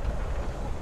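Steady train-riding ambience from the video game Life Is Strange: Before The Storm, a constant low rumble of rolling rail wagons with a faint windy hiss, heard alone for under a second.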